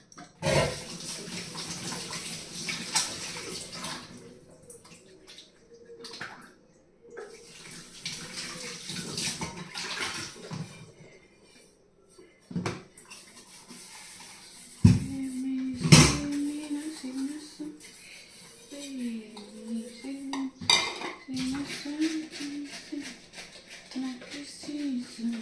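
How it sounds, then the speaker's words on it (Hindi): Tea dishes and utensils are washed at a kitchen sink under a running tap, with water splashing in bursts and pauses and occasional clinks of pots, while someone talks over much of it. "और पहले साफ करेंगे बर्तन। बर्तन इकट्ठे हो गए चाय के और सब।"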